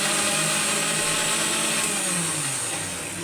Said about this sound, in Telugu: మెత్తగా మిక్సీ చేసుకోవాలి.